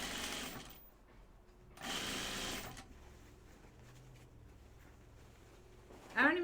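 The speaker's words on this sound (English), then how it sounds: "And then sew it with your seam allowance. Make sure your side seams match." Home sewing machine stitching the side seams of flannel-style pajama bottoms in two short, buzzing runs near the start, then quiet handling and a brief rustle at the end.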